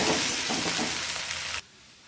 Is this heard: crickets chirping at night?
no